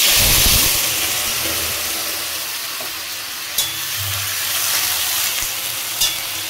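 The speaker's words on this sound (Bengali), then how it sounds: "সুন্দর করে তেল গরম করে নিয়ে জিরে শুকনো লঙ্কা ফোড়ন দিয়ে দিলাম" Goat liver pieces frying in hot oil with cumin and dried chili, a loud continuous close sizzle with a couple of sharp clinks from a utensil against the pan, with no talk.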